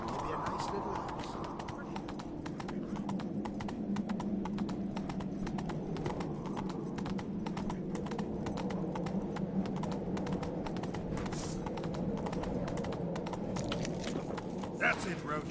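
Horse hooves clip-clop at a steady walking rhythm in The Witcher 3, close and even, under continuous talk.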